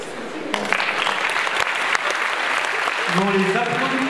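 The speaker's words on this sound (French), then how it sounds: "On les applaudit." An audience at a graduation ceremony applauds in a dense, loud, sustained burst of clapping, and voices talk over it toward the end.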